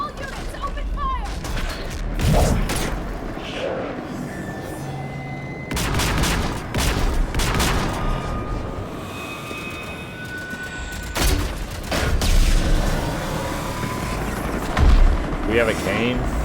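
Units open fire in the video game Mass Effect 3, sending out repeated heavy volleys of gunfire and booming blasts, loud and dense, with voices talking over the battle.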